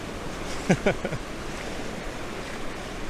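Pacific Ocean waves washing in, a soft continuous surf wash with a couple of brief louder splashes near the start, heard alone with no talking.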